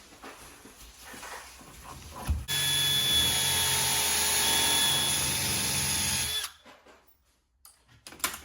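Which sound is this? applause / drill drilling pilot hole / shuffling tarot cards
drill drilling pilot hole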